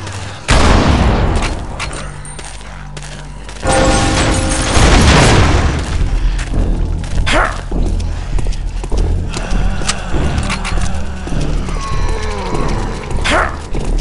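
Explosive barrel shot in a zombie video game: a sudden loud boom erupts, then a dense, chaotic spell of game noise and rumbling follows with scattered thumps.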